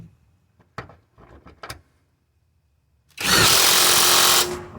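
Power tool tightening the emergency brake cable bolts on a Nissan during an EV conversion: a loud, steady whir of roughly a second and a half that starts abruptly and stops cleanly, following a few faint clicks and knocks.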